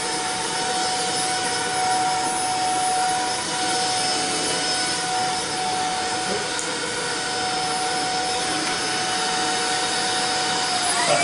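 A Shark ION F80 Duo Clean cordless vacuum cleaner runs steadily and loudly, giving a continuous broadband whir with a faint tonal hum throughout and no talking.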